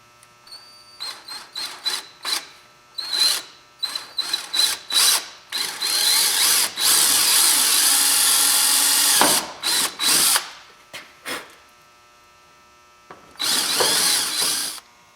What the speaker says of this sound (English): I'm going to drill it out. And I've got to go through plastic first.